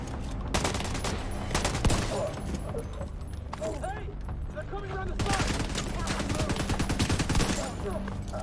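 Pistol gunfire in The Division 2, a run of quick shots that grows into a dense, continuous volley with game effects and some talk underneath.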